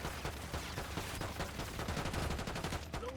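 Rapid gunfire in a shooter video game, with dense bursts of automatic shots repeating steadily throughout, loud and close, with no talk over it.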